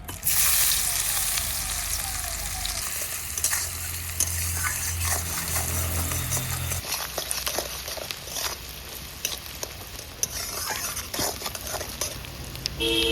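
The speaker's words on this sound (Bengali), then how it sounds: "ফোড়নে দিয়ে দিচ্ছি একটু গোটা গরম মশলা আর দুটো শুকনো লঙ্কা এখন দিয়ে দেবো আমি কেটে রাখা পেঁয়াজ" Whole garam masala spices, two dried red chillies and chopped onion fry in hot oil for a Bengali egg masala, giving a steady close sizzle broken by frequent stirring scrapes and spoon clatter throughout.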